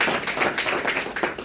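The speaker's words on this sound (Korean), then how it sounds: "박수 맞이하겠습니다." Audience applause at a lecture on retirement planning, a dense patter of many hands clapping steadily through the short stretch, fairly close and alone with no talk.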